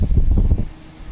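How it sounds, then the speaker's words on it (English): Gusty wind buffets the microphone outdoors beside a dump truck, with loud low rumbling that swells and then briefly eases. "I know it's windy out there"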